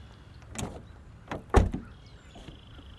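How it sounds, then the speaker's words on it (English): Power door handles on a 2020 Acura NSX extend with a few quiet motorized whirs and soft mechanical clicks, the sharpest thunk near the middle, heard close in an otherwise quiet setting. "Door handles open."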